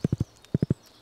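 Horse hooves clip-clopping in the Stardew Valley video game: two close, crisp bursts of three evenly spaced clops each, separated by a short pause, with no talk.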